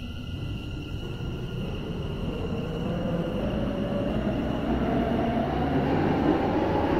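A video game train, a Class 720, rumbles steadily along the rails with a constant low roar and faint high whine, continuous and close throughout.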